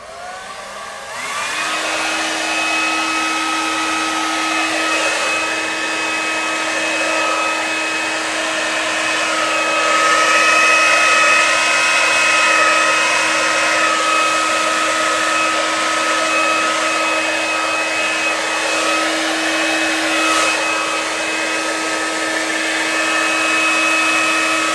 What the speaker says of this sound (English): So I'm going to go ahead and turn my dryer on